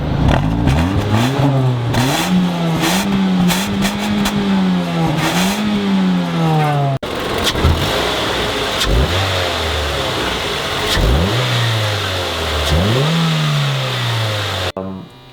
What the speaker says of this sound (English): Can you rev the piss out of my car?